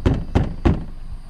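Three sharp thumping rattles at a steady pace inside a car, its panels buzzing from subwoofer bass vibration, loud and close with no voices.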